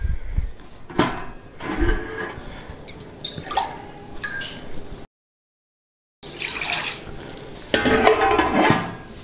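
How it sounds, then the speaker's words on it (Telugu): Ragi flour is stirred into water for a traditional ragi payasam, a steady close scraping and swishing that breaks off into silence for a moment, then resumes more vigorously. "అందులో ఈ రాగి పిండిని కలిపేసుకోవాలండి."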